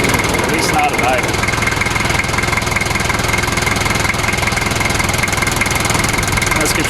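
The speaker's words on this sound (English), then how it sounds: "Seems like it's not firing on all four cylinders." A right-hand-drive Japanese-import 1988 Toyota Land Cruiser idles with a four-cylinder engine that is not firing on all cylinders, giving a close, loud, steady, rumbling, pulsing chug with an uneven beat.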